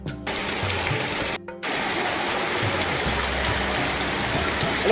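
Heavy rain pours over a village road in Sardoi near Modasa as hill runoff floods through it, making a dense, continuous roar of rushing water with two brief dropouts near the start.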